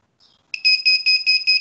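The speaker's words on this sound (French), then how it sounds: "immédiatement, l'alarme se déclenche." A drowsiness face-detection device sounds its alarm: a faint chirp, then five loud, evenly spaced high-pitched electronic beeps in quick succession, close and alone.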